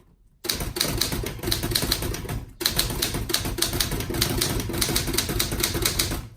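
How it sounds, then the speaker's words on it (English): A 1960s Olympia SG-1 desktop typewriter clatters with quick, steady keystrokes, close and crisp, broken by one brief pause partway through before the typing resumes at the same pace. "So I'll type out a couple lines."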